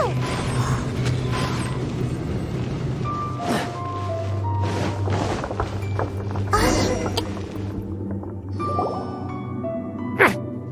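Door mechanism grinding open in the video game Genshin Impact, a layered creaking and ratcheting clank with gear-like clicks, fairly loud, over sustained low game music and effects.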